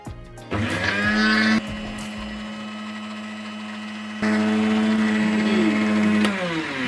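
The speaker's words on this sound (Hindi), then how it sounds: "एक हमने जूसर ब्लेंडर लिया है जी, इसमें डालेंगे ये जो हमने मिर्चें रखी हुई थी भिगो के, इनको डाल देंगे और इसको करेंगे अच्छी तरह से ब्लेंड करेंगे" A juicer blender whirs loudly up close as it blends soaked chillies into a paste. It runs in bursts: a short run, a brief drop in pitch, then a strong second burst before it winds down. No talk is heard.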